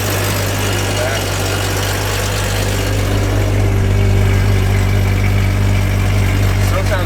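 A 1999 Jeep Cherokee XJ with the 4.0 engine idles with its exhaust cutout open, a steady low rumble that holds close and even throughout, with talk over it.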